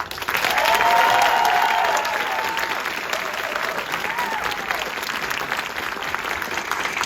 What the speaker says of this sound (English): Let's give another round of applause to Josie, because that was incredible.